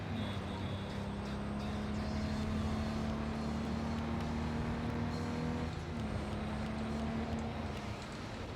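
A steady car engine drone in Cyberpunk 2077 hums throughout, driving continuously with a brief dip in pitch partway through, loud and close.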